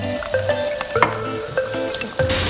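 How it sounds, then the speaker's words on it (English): Ketchup and butter are stirred together in a sizzling skillet while making chicken plov, with a steady frying hiss under repeated scraping strokes of the utensil, close and clear, no talking. "Now add the ketchup and mix everything together."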